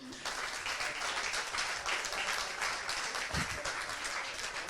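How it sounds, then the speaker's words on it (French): Audience applause at an emcee workshop event, a steady wash of many people clapping, sustained and fairly even at a moderate distance, with no talk on top. "On va applaudir encore."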